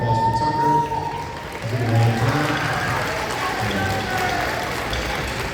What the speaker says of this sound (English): so round of applause for Tucker